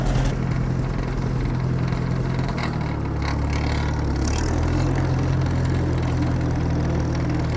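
An Oliver tractor's engine rumbles steadily close by as it drives down the road, a continuous low drone that drops slightly in pitch partway through, with no talking.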